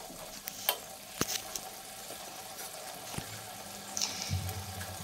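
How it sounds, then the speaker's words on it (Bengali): Chickpeas being stirred and sautéed in a pan give a soft low sizzle with occasional spoon taps and scrapes, faint and close, with a brief watery trickle near the end. "এরপর ঢাকনা তুলে ভালোভাবে কষিয়ে নিচ্ছি।"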